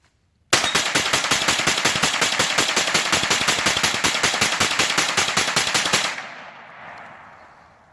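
A CZ Scorpion Evo 3 S1 carbine empties a 30-round magazine of 115-grain hollow points outdoors, a rapid even string of loud close shots lasting about five seconds, then a fading echo and quiet.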